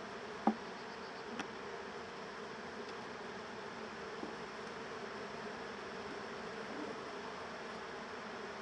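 A steady, dense buzzing of many honeybees at an open hive fills the clip, a constant swarm drone close by with a faint tap or click near the start.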